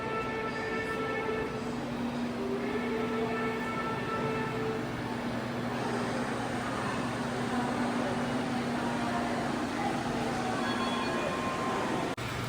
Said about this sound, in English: Over here they had a little display of trains just going around